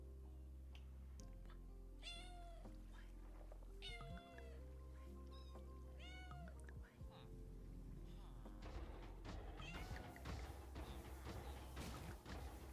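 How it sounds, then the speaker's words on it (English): A cat meows repeatedly, several drawn-out rising and falling calls spaced a second or two apart, heard close over a loud steady background hum, with a thud and some louder clatter toward the end. "I don't know if you're hearing the meows, but she is meowing."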